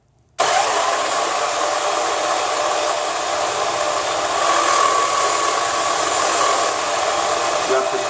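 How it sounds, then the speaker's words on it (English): Electric knife sharpener grinding a curved Japanese kitchen knife against its abrasive wheels, a loud steady motorized whir that starts abruptly and holds continuously for several seconds with slight swells in intensity. "because of the way the wheels are made, it still works to sharpen the knife"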